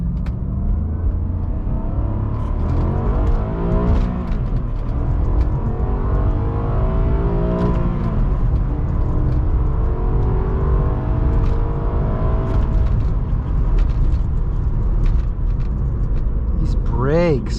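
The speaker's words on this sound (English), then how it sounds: "We'll do like a nice first gear pull for you guys over here." A 2006 Maserati Quattroporte M139 accelerating hard in first gear, engine note climbing in rising harmonic sweeps as the revs build, heard loud from inside the cabin before a quick high whine at the end.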